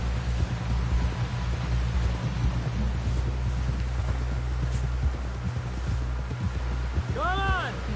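Horse hooves clip-clop steadily at a walk over ground in a western game, close and rhythmic under a low rumbling background, with a voice speaking near the end.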